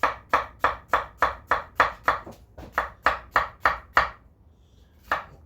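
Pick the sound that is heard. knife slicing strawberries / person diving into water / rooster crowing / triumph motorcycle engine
knife slicing strawberries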